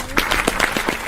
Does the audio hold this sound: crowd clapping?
yes